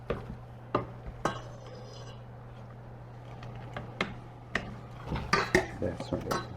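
A spoon stirs risotto in a pot, giving intermittent clinks and scrapes against the metal over a steady low hum, with voices faintly in the background.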